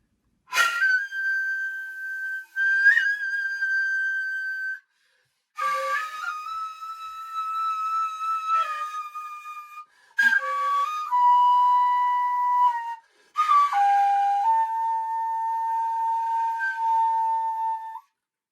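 A breathy, piercing nohkan, a Japanese Noh theater bamboo flute, plays four long phrases separated by short pauses, each note sliding sharply in pitch before holding steady.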